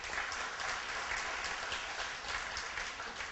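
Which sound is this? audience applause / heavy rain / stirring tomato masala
audience applause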